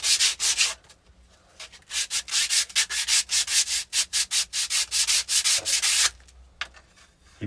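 Wooden pieces for a river table are hand sanded with 80-grit paper in quick back-and-forth strokes, a close, rhythmic scratchy rasp repeating about twice a second with short pauses between runs.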